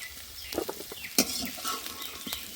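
Young jackfruit frying in a pan gives a quiet sizzle, broken by a few stirring clicks and scrapes, with one sharper knock near the middle.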